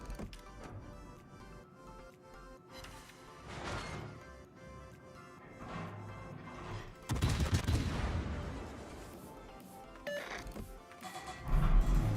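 Warship guns firing in the naval combat game World of Warships, heavy booming salvos and crashing impacts over a continuous game soundscape, with the loudest bursts arriving in the second half.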